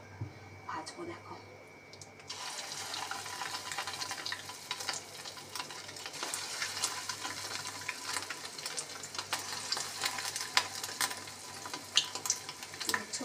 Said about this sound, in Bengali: এবার আস্তে আস্তে করে আমি বড়াগুলো ভাজবো